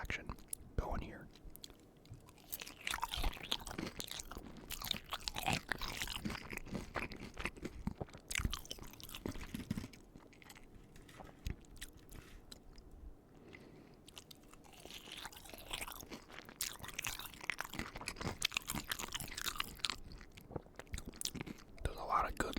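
Crunchy fried chicken topped with ketchup being chewed close to the mic, with repeated crisp crunches and bites throughout, mixed with soft whispered talking.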